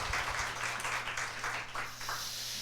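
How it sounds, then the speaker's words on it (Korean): A church congregation applauds children who have just sung, clapping that is fairly faint and distant in a reverberant hall, with a low steady hum underneath and faint voices. "다시 한번 힘차게 박수"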